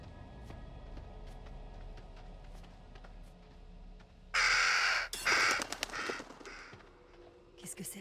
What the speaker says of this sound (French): Ah, il y a un corbeau là.